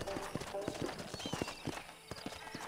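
Horse hooves clip-clopping in Red Dead Redemption, a steady run of sharp hoof strikes on hard ground, near and fairly loud, with someone talking over them.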